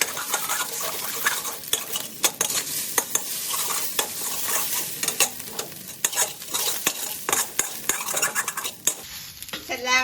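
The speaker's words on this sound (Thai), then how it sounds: "พอน้ำมันร้อนเราก็เทไข่ลงไปเลยค่ะ" Egg sizzles loudly in hot oil in a pan for stir-fried okra with egg, with frequent sharp clicks and scrapes of a utensil stirring against the metal.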